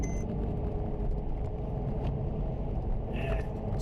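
A car with a freshly rebuilt engine, its block restored by Hartech, is driven hard, giving a low continuous rumbling drone of engine and road noise from inside the vehicle with no talking.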